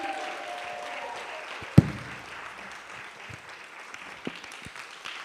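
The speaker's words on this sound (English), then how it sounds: "Keep clapping." Audience applause at a book launch as a speaker is welcomed to the platform, a sustained, moderate clatter of clapping with a sharp thump early on and occasional louder claps.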